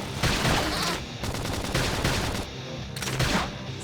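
Rapid bursts of gunfire during a Xenoblade Chronicles X Definitive Edition battle, loud dense volleys rattling almost continuously with brief gaps between bursts.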